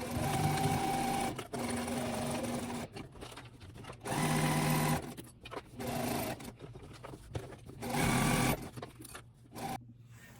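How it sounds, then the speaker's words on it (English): A sewing machine back stitching over overlapping seams of an envelope pillow cover, running in several loud close bursts of rapid needle hum separated by short pauses. "I am going to be doing some extra back stitching over these areas where my two overlaps intersect"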